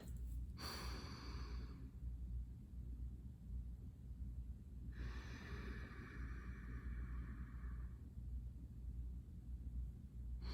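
Slow paced breathing exercise with a counted inhale, hold and exhale: one long audible breath early on, a gap, then a second sustained breath, soft and close over a low background hum.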